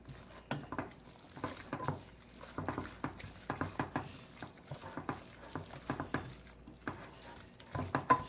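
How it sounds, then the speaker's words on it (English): Sour cream being stirred into sauerkraut and kielbasa in a pan, with soft rhythmic scraping and squelching strokes in quick, even bursts and a faint simmer underneath. "after you put the sour cream in, you want it again to thoroughly mix it in, so it's all incorporated nicely"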